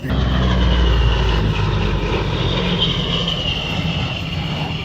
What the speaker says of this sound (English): You can hear these two Allison engines tuned up and running.